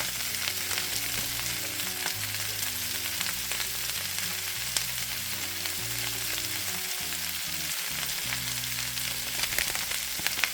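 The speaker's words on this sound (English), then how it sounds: "I'm going to go ahead and add a little bit of this Tuscan seasoning into the pan." Food fries in a pan with Tuscan seasoning, a loud, constant close sizzle that crackles evenly throughout with no pauses.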